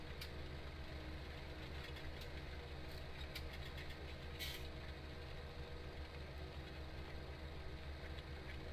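A tractor engine idling in Landwirtschafts Simulator 17, a quiet, steady low mechanical hum that runs throughout, with a few faint clicks and brief noisy bursts on top.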